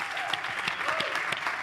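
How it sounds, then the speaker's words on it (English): An audience at a Brandweek event claps lightly and unevenly, scattered claps blending into a thin, steady patter of applause. "Wow, that's some really low energy clapping, people."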